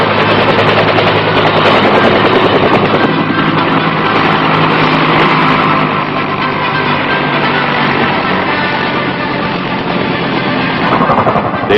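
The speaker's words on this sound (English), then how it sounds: "helicopters touch down on landing pads and bring in the precious cargo" A military helicopter, apparently an Army transport, lands and flies. The rotor and turbine noise is loud, steady and close throughout, with a dense rhythmic chop and no speech.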